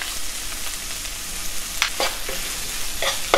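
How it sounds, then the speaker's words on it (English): Mixed vegetables for pulao sizzle steadily in a pan, with a few scraping stirs of a spoon toward the end and a constant loud frying hiss. "You could add the mixed vegetables. Give it a good mix."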